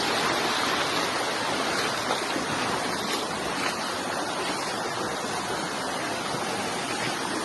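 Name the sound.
strong rushing stream water current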